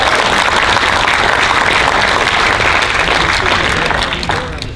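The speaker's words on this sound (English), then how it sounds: "A big round of applause too, please, for the candidates for participating" Dense, loud audience applause for the candidates at the 11th Congressional District Republican debate, a steady wash of clapping that holds throughout and tapers slightly at the end.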